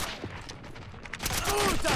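Several soldiers in the Army Men mod of a war video game open fire together. The shots come as a ragged, rapid burst, dense but fairly soft, thickening toward the end of the short stretch.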